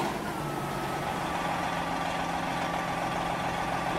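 A 1980 Chevrolet C70 truck engine in Euro Truck Simulator 2 idles steadily with a low, even rumble that holds constant throughout, with no talk over it.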